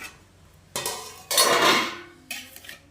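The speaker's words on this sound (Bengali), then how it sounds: "আর বিরিয়ানিটা একটু নাড়া দিয়ে দিই" Biryani being stirred in a pot, a few separate metallic clanks and longer scraping pushes of a spoon against the pot, close by and without talk.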